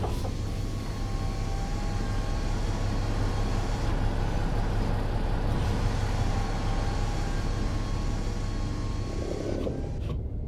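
Truck engine and cab sounds from American Truck Simulator, modded engine audio, form a steady low drone with faint creaks and mechanical rattles, continuous and even throughout.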